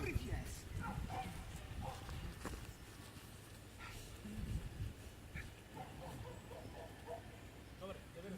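A German shepherd yips, whimpers and gives short barks in an excited play session, mixed with scuffling footsteps, while someone talks and encourages the dog throughout.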